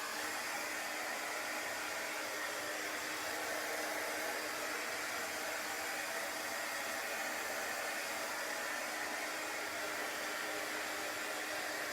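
A hair dryer blows steadily and loudly for the whole stretch, drying chalk paste after a silk-screen transfer, an unbroken broadband whoosh with no voices.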